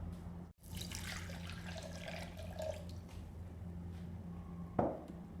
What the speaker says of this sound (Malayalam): ഇനി ഇതേ ജാറിലോട്ട് 1 ഗ്ലാസ് വെള്ളം ഒഴിച്ച് അരപ്പയിലോട്ട് ഒഴിക്കാം.